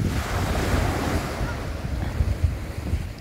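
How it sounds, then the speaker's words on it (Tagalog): Waves roll in at Barceloneta beach in Barcelona, a steady broad wash of surf with gusty wind noise and a few low swells rising toward the end. "Dagat ng Barcelona, di ba?"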